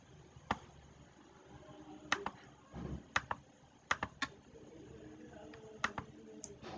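Someone types a captcha on a computer keyboard, a sparse, irregular series of sharp key clicks, some in quick pairs, quiet and close against a faint room background.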